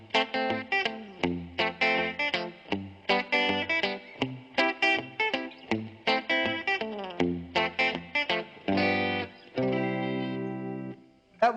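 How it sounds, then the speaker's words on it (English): Electric guitar rhythm played with an echo effect, loud and close: choppy, repeating chord stabs in a steady pattern, each attack trailed by short repeats, ending in a held, ringing chord. "that was basically how I came up with that little echo sound there."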